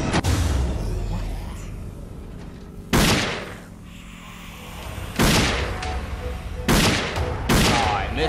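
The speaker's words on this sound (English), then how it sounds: "I shot you in the head!" Gunfire in the shooter game Dead Effect: loud close shots crack out one at a time with pauses between them, each trailing off over a steady background rumble.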